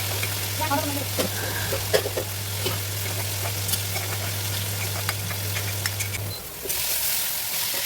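Spices fry in hot oil with a constant loud crackling sizzle, scattered scraping and clicking of stirring, and a low steady hum that cuts out near the end.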